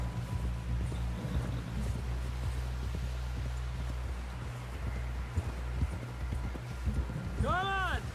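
Horse hooves clop at a steady trotting rhythm in Red Dead Redemption 2, close by under voices talking throughout, with a horse whinny rising near the end.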